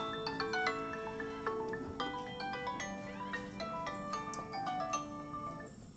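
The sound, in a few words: phone ringing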